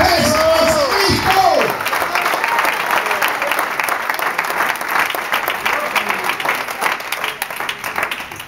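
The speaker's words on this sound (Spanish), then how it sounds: "No me deje aplaudiendo ese hombre solo." Applause and scattered cheers fill a church service, a sustained wash of clapping from the congregation following an opening shout, continuing steadily throughout.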